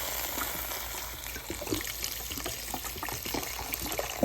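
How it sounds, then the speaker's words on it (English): Vegetable broth poured from a box into a pot of quinoa, a steady trickling, splashing stream of liquid heard close up and fairly soft for several seconds, with no talking. "into that, we're going to add a box of vegetable broth"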